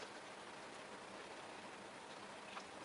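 Soft, steady rainfall during a California rain storm, a faint and even hiss of drops with no voices.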